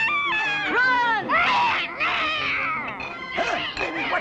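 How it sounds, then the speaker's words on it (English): A cartoon cat meows and yowls in a series of loud, close, drawn-out wailing cries with rising and falling pitch, several separate calls across the stretch. "Look out, you stupid cat!"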